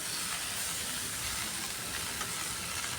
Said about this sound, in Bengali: পালং পাতাটা দিয়েও কিছুক্ষণ নাড়াচাড়া করে নেব